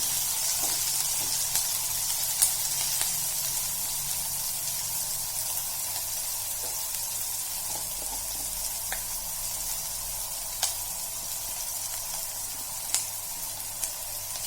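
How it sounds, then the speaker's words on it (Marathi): Onion sautés in a pan until browned, giving a quiet, even sizzle that runs throughout with occasional faint ticks and clinks of the pan. "कांदा छान तांबूस होईपर्यंत परतून घेऊया"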